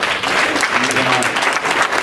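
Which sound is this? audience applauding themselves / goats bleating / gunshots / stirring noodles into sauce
audience applauding themselves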